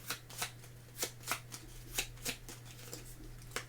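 Playing cards for the Resurgence board game are shuffled in a string of quiet, crisp riffle bursts, roughly one every half second, close by with no talk.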